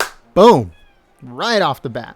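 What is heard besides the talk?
cats meowing in the background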